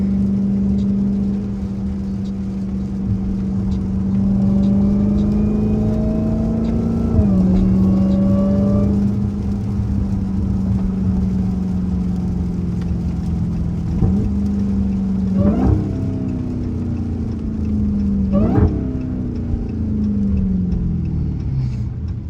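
Cars drive past during a hurricane, a loud continuous engine drone with pitch sweeping down several times as vehicles go by, under steady wind and road noise.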